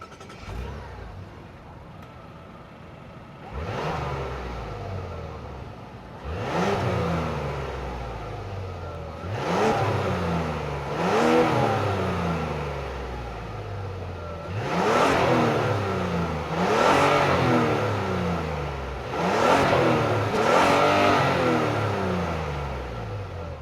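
A 2026 Mazda CX-90's turbocharged 3.3-liter inline-six engine revs repeatedly, each blip rising sharply then falling back to a steady idle, close and loud with a deep exhaust tone.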